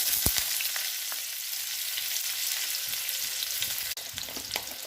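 Onions hit about three tablespoons of hot oil for a restaurant-style chicken curry, giving a loud, steady sizzle close by with a few sharp knocks of stirring.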